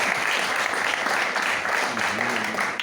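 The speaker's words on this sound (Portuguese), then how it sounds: "Você pode aplaudir o Senhor pela vida da filha de Deus?" Church congregation applauding together, a steady dense wash of clapping that fills the whole stretch, with a few voices rising faintly underneath toward the end.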